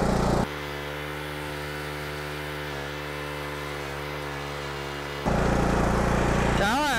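A lawn mower engine under repair fires up and runs with a steady, loud drone for several seconds before cutting out, followed by brief noise at the end.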